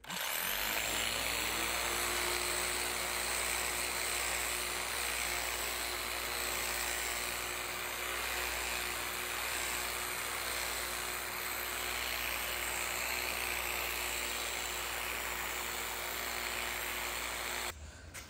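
A power sander with a shaped pad smooths wooden door moulding, giving a steady, fairly quiet whirring drone that runs almost unbroken before stopping at the end.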